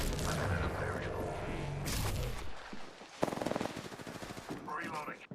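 Rapid video game gunfire bursts out loud and close, with a dense machine-gun-like stutter in the second half over a constant game soundtrack, with other game noise and voices mixed in.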